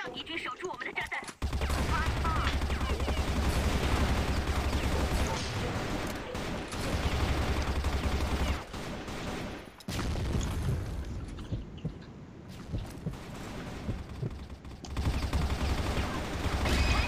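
Video game battle gunfire in rapid, dense bursts of shots and booms, loud and near, broken by short pauses, with voices faintly underneath.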